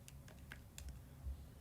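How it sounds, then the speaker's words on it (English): Quiet, quick keystrokes on a computer keyboard as numbers are entered, a scattered run of soft clicks heard close by with no talking. "I just kind of zone out and start typing them in"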